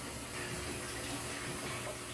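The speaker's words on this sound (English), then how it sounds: "And you can hear the water start." Water rushes steadily into a storage tank fed by a reverse-osmosis line, a soft continuous hiss with no voices.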